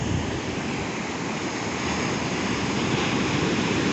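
Ocean waves break and wash onto North Beach at Port Townsend in a steady, loud roar of surf with wind noise across the microphone and no distinct pauses.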